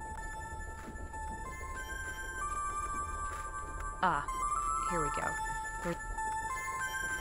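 An old cell phone in The Charnel House Trilogy rings with a warbling electronic ringtone in short repeated bursts over a quiet, humming background, while a voice speaks briefly alongside it.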